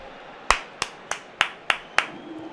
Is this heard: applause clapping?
yes